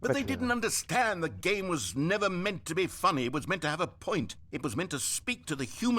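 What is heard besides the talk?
No everyday noises stand out.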